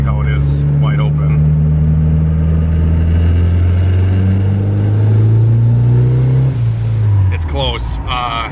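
A turbocharged single-cam Honda D-series engine on a dyno, run at wide open throttle: a loud, steady engine drone rises in pitch for several seconds, then drops away, with a brief voice near the end.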